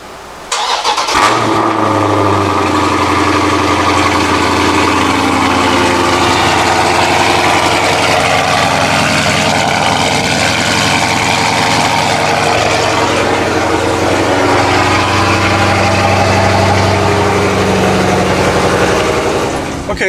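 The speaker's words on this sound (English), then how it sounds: "This is going to be the final cold start with this setup on the car" A Dodge Scat Pack fires up from cold with a sharp crank and catch, then settles into a loud, deep, steady V8 idle rumble close by for the rest of the time, with no talking.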